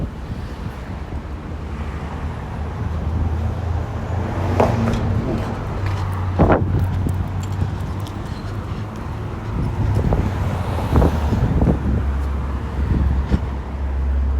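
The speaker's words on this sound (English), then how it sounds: "Currently, Eglinton Avenue is served by the 32 Eglinton West bus, and one is passing right now." A 32 Eglinton West city bus rolls past on a Toronto street, a broad engine and tire rumble that swells and fades amid gusty wind and traffic noise, with no talk.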